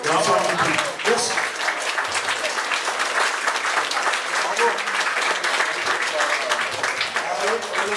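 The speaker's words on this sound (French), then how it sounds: "Je suis heureux, par ma bouche de président national, de vous remettre ce diplôme sous les applaudissements bien mérités de l'ensemble du public" A public audience applauds a diploma presentation in a seaside hall, sustained dense clapping throughout, with a voice speaking briefly at the start.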